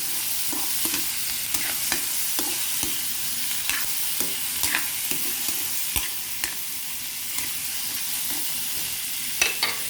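Vegetables for ginisang gulay are sautéed in a pan, with a constant bright sizzle of frying and regular clinks and scrapes of a utensil stirring against the pan, close and without speech.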